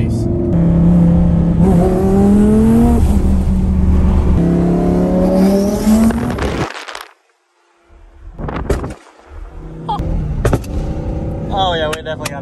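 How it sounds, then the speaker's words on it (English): Monstermax 2 car engine revs loudly and rises in pitch for several seconds, then cuts out. Sharp pops and further engine bursts follow, with people talking over it. "rev up the car"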